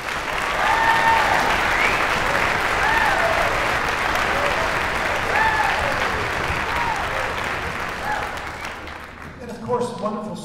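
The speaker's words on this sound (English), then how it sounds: "let's give our educators a round of applause" Sustained audience applause fills a concert hall to honor music educators at a school music extravaganza, steady and dense for most of the stretch before thinning out, with a few voices audible in the crowd.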